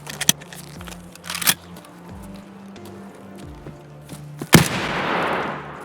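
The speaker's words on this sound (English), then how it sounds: "use the barrage of gunshots to mask my footsteps" Rapid gunfire bursts in the video game Escape from Tarkov on the Woods map, several sharp loud shots spaced across the span with a heavier blast near the end, over faint footsteps and movement.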